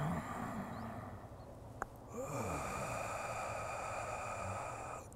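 A strong, forceful exhalation during a breathing exercise sounds close and breathy, beginning around two seconds in and running on as a sustained rush of air.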